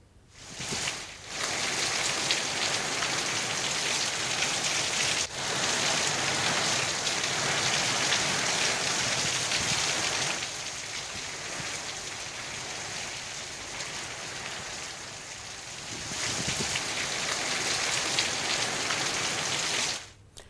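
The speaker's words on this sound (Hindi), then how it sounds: "पूरे जिले में बारिश हो रही है" During Cyclone Yaas in Sahebganj, heavy rain falls steadily on outdoor surfaces for about twenty seconds in a dense, loud hiss with scattered droplet patter, briefly easing midway, and no one speaks.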